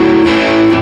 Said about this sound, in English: Because otherwise, if we didn't use the palm muting, it would sound like this